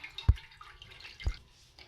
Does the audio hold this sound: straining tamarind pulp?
yes